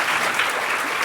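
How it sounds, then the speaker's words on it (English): A brief, dense burst of applause from an audience at a Science Foundation Ireland speaker series lecture, many hands clapping together at an even level. "Round of applause for SFI."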